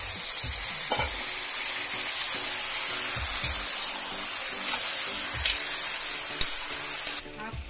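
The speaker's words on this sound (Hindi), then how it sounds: "एक किलो मटन। अब हम लोग इसमें पका देते हैं।" One kilo of mutton sizzles and fries steadily in a pot, with a broad hiss broken by a few scraping stirs and clinks near the end, no voices.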